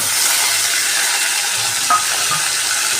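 Washed chicken pieces stirred into onions and tomatoes frying in oil, a steady close sizzle with faint scraping of a spoon against the pan and one small clink near the end.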